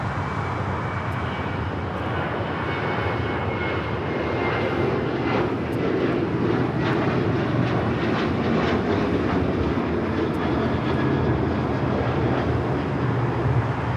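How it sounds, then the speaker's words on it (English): American Airlines Boeing 737-800 jet taking off, a steady broad engine roar heard from some distance that holds throughout without interruption. "1668 taking off to Phoenix on the 737-800"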